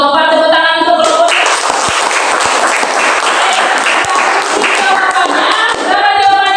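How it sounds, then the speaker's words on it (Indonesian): Students clap for a group after its classroom presentation. The applause is loud, dense and continuous from many hands, with a brief tonal sound at the start and end. "Tepuk tangan untuk kelompok."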